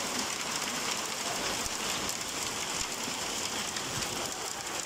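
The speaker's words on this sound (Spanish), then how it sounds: "Santa Elena, fuerte granizada. Agua seria." Heavy hail and rain storm in Santa Elena, Medellín, a dense continuous hiss of rain and hailstones pelting surfaces, loud and unbroken with scattered harder impacts, no voices.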